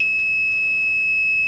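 A Kaiweets KM201 auto multimeter gives a steady, loud, continuous high-pitched continuity beep that holds unbroken from start to finish, with no other sounds around it.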